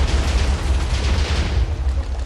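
An explosion in Minecraft rumbles loud and close, a dense, broad blast that fills the moment without any speech over it.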